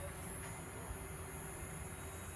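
A tuned Tamiya Torman dynamo motor runs steadily during its break-in, giving a constant faint whine and hum with no pauses or speech.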